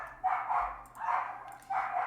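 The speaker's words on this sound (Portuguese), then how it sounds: "meus cachorros estão latindo muito" Dogs bark in three spaced bursts, somewhat distant and muffled, each bark short and sharp with pauses between.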